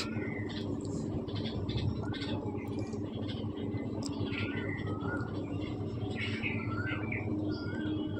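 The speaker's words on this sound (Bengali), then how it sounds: "দেখুন আমার ঘরে কিছু নর পায়রা" Madrasi pigeons in a home loft, with soft cooing and faint chirps over a steady low background hum and indistinct voices.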